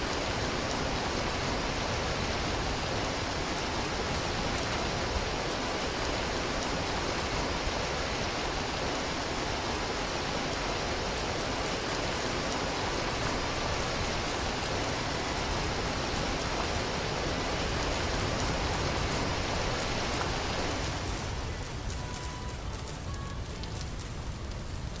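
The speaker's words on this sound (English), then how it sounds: "Sounds like it's raining here." Steady rain falling in the survival crafting video game Vintage Story, a dense continuous hiss held at even loudness for most of the stretch, thinning slightly near the end with no talking over it.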